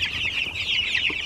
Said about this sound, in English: So check out the broiler chicks and how big they are.